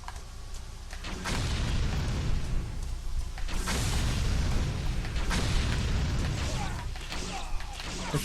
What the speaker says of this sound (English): Explosions are awesome!